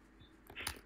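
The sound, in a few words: typing on a computer keyboard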